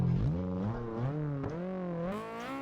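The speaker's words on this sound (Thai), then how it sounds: "อ๋อมีเสียงรถเข้ามานะผม" A car engine drones loud and close, its pitch rising and falling smoothly through revs for a few seconds with no talking.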